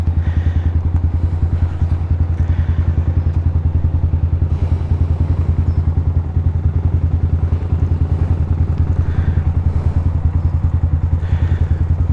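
A motorcycle engine chugs loudly and steadily at close range on the Bataan-Cavite Interlink Bridge project in the Philippines, its rhythmic putter running throughout with some rattling clatter.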